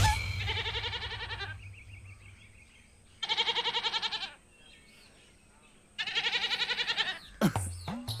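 A goat bleats in three loud, close, wavering calls separated by pauses, with some handling noise at the end and no speech over it.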